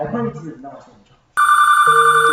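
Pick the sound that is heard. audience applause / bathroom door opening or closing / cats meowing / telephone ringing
telephone ringing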